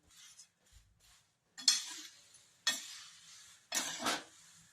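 Flattened rice roasting in a pan on a low flame gives three separate bursts of dry crackling and stirring rustle. Quieter clinks come between the bursts.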